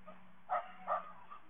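A dog in a park gives two short, faint barks or yips about half a second apart, heard from some distance over a low steady hum.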